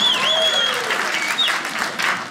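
A stand-up comedy crowd breaks into applause, thick and sustained clapping from many people. A couple of whistles rise over it near the start.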